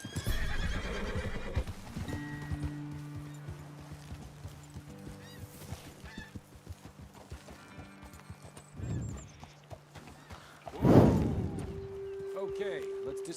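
A horse whinnies loudly near the end in Red Dead Redemption 2, with clip-clopping hooves and game ambient tones running underneath throughout.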